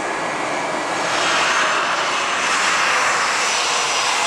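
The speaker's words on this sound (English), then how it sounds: "there's the A330 I referenced, bound for Honolulu" Steady, loud roar of an Airbus A330 jet airliner's engines at an airport, a broad continuous rumble that swells slightly after the first second and holds with no voices.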